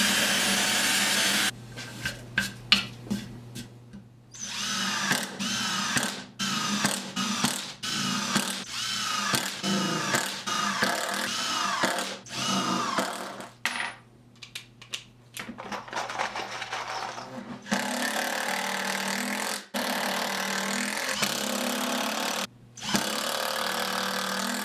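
Impact driver hammers GRK screws into wood, a rapid rattling ratchet-like chatter in repeated long bursts separated by short pauses, loud and close with no talking.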